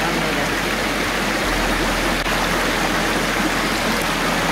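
A mountain stream rushes steadily, a continuous broadband wash of flowing water that stays loud and close throughout with no voices.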